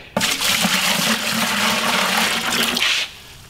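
Water pours steadily into a shop bucket to mix Laticrete 3701 Lite mortar, a continuous rushing splash lasting about three seconds, close and fairly loud, then stopping abruptly.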